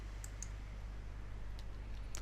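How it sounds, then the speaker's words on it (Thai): A few sharp mouse clicks while confirming a setting in a Facebook app dashboard, scattered over a steady low electrical hum with no talking. "คลิก Confirm"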